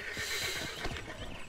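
A horse neighs and snorts in Red Dead Redemption 2, a short whinny over steady game ambience with hoof clops, fairly close.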